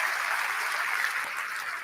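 Audience applause for the Nice Opera Choir at a Champions League draw ceremony, a steady, even wash of clapping from a large crowd filling the whole moment.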